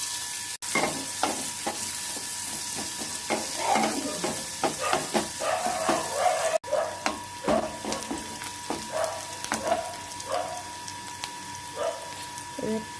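Dried chili and chopped onion fry in hot oil in a pan, a steady sizzle broken by repeated scraping stirs and clinks of the spatula, close and moderately loud with no talking.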